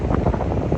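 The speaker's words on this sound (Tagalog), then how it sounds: "medyo malakas ang hangin kasi nga nandito tayo sa" Strong wind gusting in mountainous terrain during rain near Bow Glacier Falls in the Icefields, a steady close rush of buffeting noise across the whole short moment with no talking.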